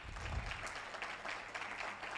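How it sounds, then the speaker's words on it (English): Attendees at a Nairobi environmental diplomacy symposium clap for the Ministry, a faint, soft patter of applause from a room, heard quietly and without talk. "Let's clap for that, Ministry."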